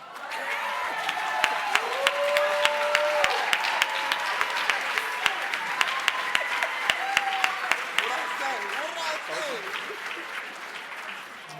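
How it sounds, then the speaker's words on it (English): A gala audience at the Bostonians for Youth event applauds the Root-Batson Academy representatives, with loud, sustained clapping filling the room and a voice speaking over it. "Let's get a round of applause for them."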